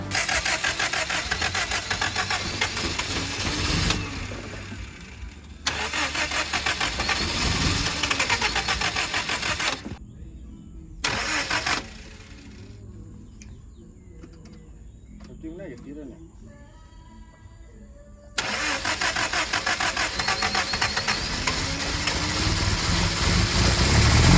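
A Datsun 620 engine cranks and catches after a rebuild, then idles with a steady rumble, broken by brief pauses and quieter stretches before revving back up loudly.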